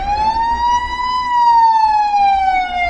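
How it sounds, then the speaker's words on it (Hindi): A loud police siren wails close by, its single tone slowly rising and falling in a continuous sweep, with no voices. "दरवाजे से पुलिस सायरन्स की आवाज सुनाई दी"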